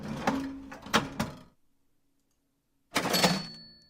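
Rattling mechanical clunks of a drawer mechanism, a pause of silence, then another burst of sliding, clattering metal, close up.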